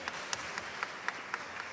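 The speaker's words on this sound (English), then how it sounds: "Can we give her a warm round of applause as well" Warm round of applause from a seated audience at a youth roundtable, steady dense clapping with a few sharper individual claps standing out throughout.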